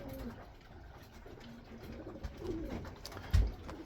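Pigeons coo softly in a loft, low rolling calls recurring amid faint rustling and a brief thump near the end, quiet and close.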